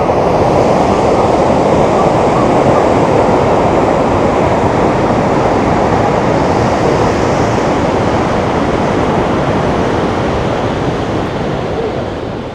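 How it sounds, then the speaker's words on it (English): A massive waterfall in an Alaskan rainforest roars as a loud, steady, dense rush of falling water, heard up close and alone, fading slightly at the end. "Like standing in the middle of this massive waterfall. This is just unreal. Really loud over there."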